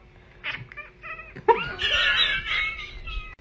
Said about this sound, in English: Guys, I taught my cat to laugh.